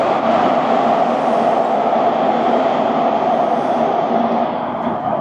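A Japanese local train runs through a station with a loud, steady rumble and broadband rush that eases slightly toward the end.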